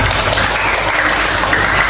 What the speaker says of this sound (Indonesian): Oke, bapak minta tepuk tangan semuanya.